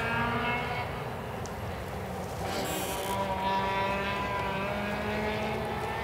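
A Lada rally car with a rear exhaust runs with a loud, continuous, throaty engine drone, steady and close, with a brief rise in pitch midway.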